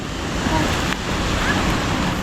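Sea waves wash onto a beach in a continuous, loud roar of surf, mixed with gusts of wind buffeting the microphone. No voices are heard.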